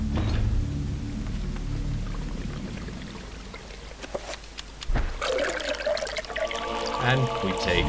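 In the Eternal Darkness video game, water is poured into an urn. A trickling, splashing pour rises in the second half among other in-game effects and a brief low thump.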